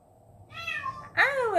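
A stray cat meows outdoors, two drawn-out, rising-and-falling cries in a row, the second louder and closer, against a quiet background.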